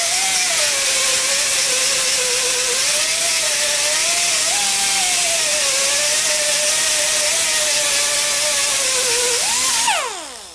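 A power tool fitted with a Scotch-Brite abrasive pad runs in a loud, steady, wavering whine for about ten seconds before winding down at the end.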